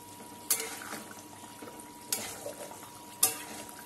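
Rui fish sizzling steadily in hot oil in a pan with potatoes and green chillies, broken by three sharp metallic scrapes and clanks as a spatula turns the pieces over; close and moderately loud, with no talking.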